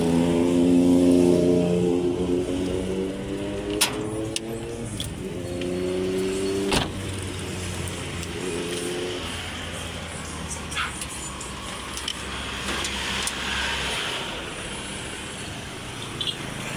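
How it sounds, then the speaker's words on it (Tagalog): Isuzu C240 turbo diesel idling steadily in a modified Bigfoot-style SUV with large tires, a low continuous engine drone throughout with a few brief clunks and whirs near the vehicle. "Ang makina po nito is Isuzu C240."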